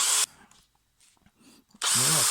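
A Bosch GSB 18 cordless drill in drilling mode whines loudly, cuts off, then after a brief quiet with faint handling noises it spins up again, close by.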